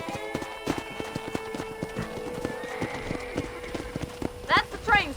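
Horse hooves clip-clop in a steady, rapid rhythm in the Western video game Red Dead Redemption, close and clear, ending with a couple of whinnies and snorts near the end.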